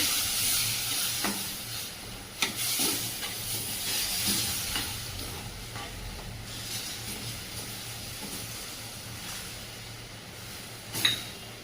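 Milk is poured slowly into moong dal roasting in a pan for halwa, setting off a soft, steady sizzle and hiss with a few sharper bursts of crackling, heard close up.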